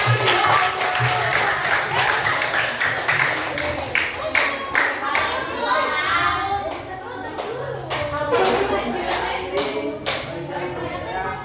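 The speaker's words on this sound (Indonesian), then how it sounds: "Oke, kasih tepuk tangan." Children in a seventh grade classroom clap together after a classmate's presentation, a steady, fairly close round of hand claps with kids' voices mixed in.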